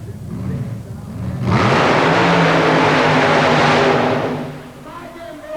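A super modified mud racing car roars through a loud, sustained run at an indoor arena at Nassau Coliseum, its engine building then fading, with an announcer talking over the start and end.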